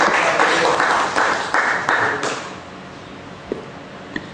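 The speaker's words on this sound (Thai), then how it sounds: "ขอเสียงปรบมือให้อาจารย์สุรักษ์นะครับ" An audience at an academic lecture claps for a professor, a short burst of applause that fades within about two seconds into a quiet room with a couple of faint knocks.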